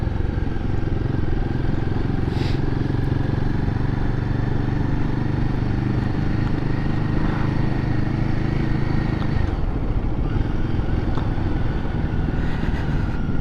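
A Royal Enfield motorcycle engine runs steadily, a loud close thumping idle with a constant low rumble and mechanical clatter that keeps going without a break.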